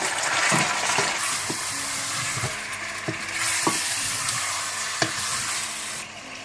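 Steady sizzling as chicken fries in a pan with golden-brown onions, with occasional soft clinks and stirring knocks over a continuous hiss.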